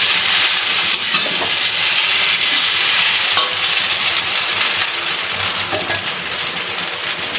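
Vegetables frying in hot oil in a pan, a loud, steady sizzle running throughout with occasional stirring clinks and scrapes, no voices.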